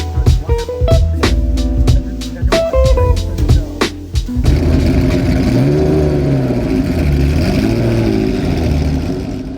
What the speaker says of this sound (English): Here's a cool looking Alfa Romeo race car. It's tiny, but loud.